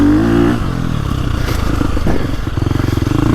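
A 2025 KTM 350XCF Factory Edition dirt bike engine revs loud and close, its throttle blips rising and falling, then settling into a rapid, pulsing bark near the end.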